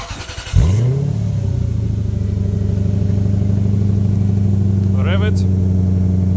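A Lexus GS430 V8 fitted with a homemade straight-through valved exhaust cranks and fires up, then settles into a loud, steady, deep idle with a brief blip of revs near the end. Speech can be heard in the background.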